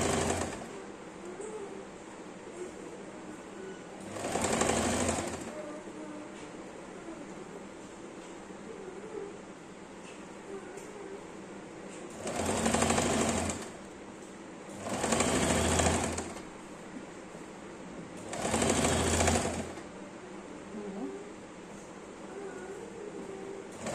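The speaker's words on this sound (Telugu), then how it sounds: "ఇలాగా టాప్ స్టిచ్ చేసుకుంటూ కట్ చేయాలి." A tailoring sewing machine top-stitching the neckline of a nighty, running in four short bursts of rapid whirring, spaced apart by quiet pauses with a low background hum.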